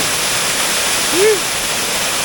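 Water streams out from beneath the roots of a balete tree in Valencia, Bohol, giving a steady, close, broadband rush with no break, and a short tonal sweep rising then falling near the middle.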